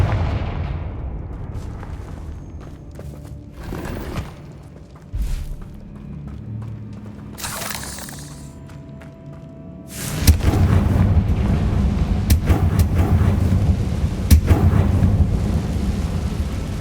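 Confringo fire-spell blasts in Hogwarts Legacy: deep booming explosions and crackling bursts over a rumbling backdrop, with isolated hits early on followed by a louder, sustained barrage of impacts.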